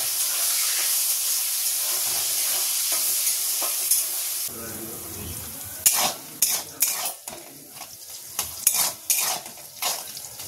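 Soybean chunks fry in a pan with a steady sizzling hiss, then a spatula stirs them in a run of loud scraping and clattering strokes against the metal; no talk.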